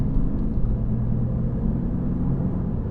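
A BMW F80 M3 engine drones steadily from inside the cabin as the car accelerates on light throttle, a continuous low rumble with no breaks or voices.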